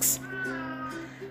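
An Oriental cat yowls outdoors while someone tries to coax it back home, giving one drawn-out, steady, moderately loud cry that holds its pitch for over a second.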